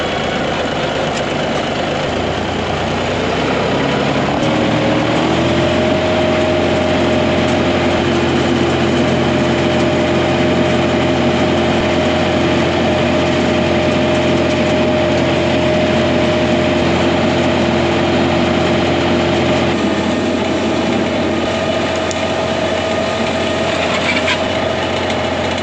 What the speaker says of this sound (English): You didn't think I was gonna go a whole video without using my tractor, did you?